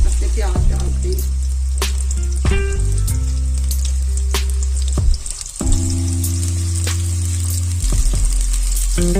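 Onions sizzling and frying loudly in hot oil in a pan, steady crackling with occasional stirring clatter, close and continuous.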